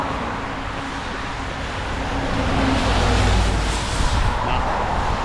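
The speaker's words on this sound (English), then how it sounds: "we've got some more traffic coming. There's a bus" Cars and a bus pass on a road, heard as a broad rushing roar that swells and stays loud, with a low engine rumble from a larger vehicle in the middle.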